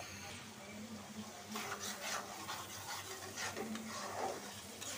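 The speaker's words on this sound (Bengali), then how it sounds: "মশলাটা কষানো হোক।" Spice paste for a thin catla fish head and ash gourd curry fries in a pan, with soft rhythmic spoon scraping over a quiet, steady sizzle.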